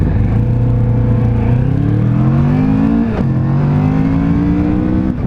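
A Kawasaki Vulcan S motorcycle engine revs hard at full throttle, its loud, steady note climbing through the gears with a brief dip at a shift, close and alone without talk.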